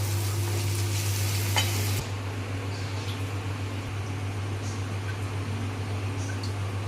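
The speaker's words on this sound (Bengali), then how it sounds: "দেখো তোমরা কিভাবে আমি ভাজছি।" Okra (bhindi) frying in a pan gives off a steady, fairly loud broadband sizzle that carries on without pause and eases slightly after the first two seconds, with a low hum running beneath it.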